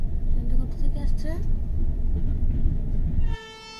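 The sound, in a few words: train arriving at station, Padatik Express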